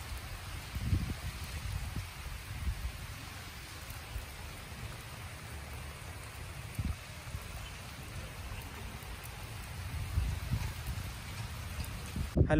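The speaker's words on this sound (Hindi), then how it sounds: "आज इस वक्त रिमझिम बारिश हो रही है" Light drizzling rain falling in a village, a steady soft hiss with scattered patter of drops on surfaces, continuous and fairly close, with no talking.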